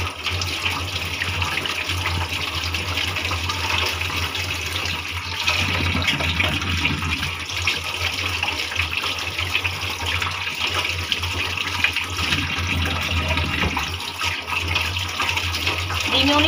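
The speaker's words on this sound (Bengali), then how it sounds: "আমি এখন ধুবো, ডিমগুলি ধুয়ে রান্না করবো" Eggs washed under a running kitchen tap, a steady close rush of flowing water lasting throughout, with faint splashing shifts as the eggs are handled and a voice speaking over it.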